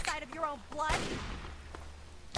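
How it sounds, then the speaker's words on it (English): Gunfire in the Fallout 3 video game, a few sharp broadband cracks at moderate distance breaking through a spoken voice, with a final shot right at the end. "I hear gunshots."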